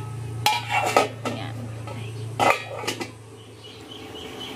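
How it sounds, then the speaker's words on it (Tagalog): A lid is set back onto a cooking pot of sinigang na bangus sa bayabas, milkfish soup with guava, giving a few close metallic clanks and clatters over a steady low hum. "Takpan ulit natin."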